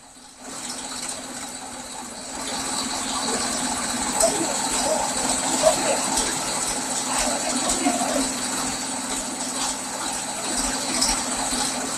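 A tractor wades through a flooded residential street in Sai Layout, Bengaluru, after heavy rain, ferrying people out; a steady, fairly loud engine drone blends with sloshing water and mechanical rattling throughout.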